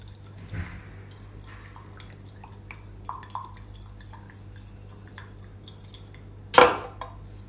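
A few small splashes and drips in a pot as hot water is poured over tea leaves to rinse them, with quiet clinks of dishes and one sharp metallic clatter near the end, close and fairly quiet.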